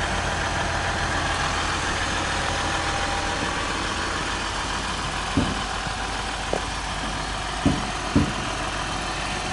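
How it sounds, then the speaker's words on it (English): A 2015 RAM 1500 Longhorn EcoDiesel engine idles smoothly and steadily close by, a low continuous hum with a few brief clicks or knocks near the end, without voices. "Has a real smooth sound to it. It's not like a real knocky diesel engine"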